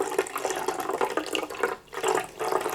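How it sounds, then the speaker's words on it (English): Cleaning solution poured over the brushes into the bath of a record cleaning machine, a continuous splashing, gurgling pour at close range with a brief pause near the end. "I've got my solution, which you pour into the unit."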